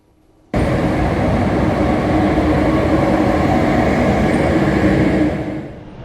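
A railway locomotive being turned around at Åre station, a loud, steady rumbling drone that starts abruptly and holds evenly for several seconds before fading slightly at the end.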